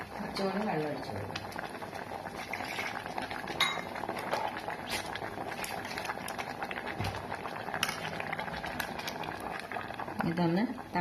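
Sambar boiling in a pot in a home kitchen makes a steady bubbling simmer, with occasional clinks of utensils and a person speaking over it.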